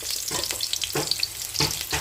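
Chopped onion frying in hot oil with mustard seeds and other tempering seeds, a steady close sizzle with bursts of crackling and stirring scrapes, no voices.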